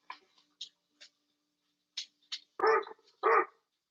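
A dog gives two deep, loud barks near the end, after a series of short, soft ticking or clicking sounds.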